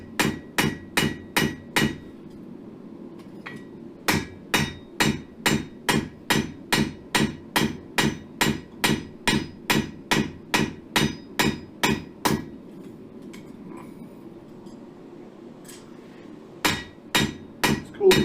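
Hot square steel bar is hammered on an anvil to flare its ends while forging a cross, sharp ringing blows in rapid even runs with brief pauses between sets.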